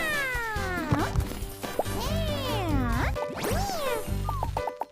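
A cartoon cat in a children's alphabet learning video game meows repeatedly in bright, sliding, expressive cries over a cheerful musical backing, loud and close.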